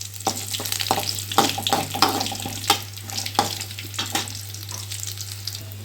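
Peanuts fry in a pan for mango chitranna, with close sizzling and a run of sharp stirring clicks and scrapes over a low steady hum.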